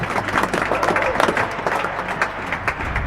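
Spectators applaud at a real tennis match, the Champions Trophy final, a dense patter of clapping that holds steady for a few seconds, close and lively under the indoor crowd.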